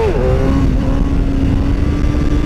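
A motorcycle engine holds a steady, loud drone during a sit-down wheelie on a road at sunset, its pitch dropping slightly at first and then staying level.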